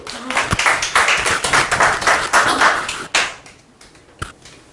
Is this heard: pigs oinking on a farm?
no